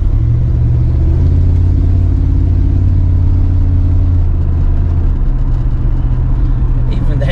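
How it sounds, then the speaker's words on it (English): A 1988 Chevy Silverado drives down the road on hard old tires, giving a loud, steady low cabin rumble and road roar throughout, with a voice talking over it. "I can hear them hard tires on the road, but the way this thing rides feels good."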